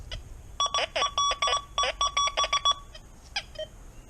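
XP Deus II metal detector sounding over a nail, a run of rapid, clear electronic beeps in quick bursts for about two seconds, then a pause and one or two short closing tones, close and loud.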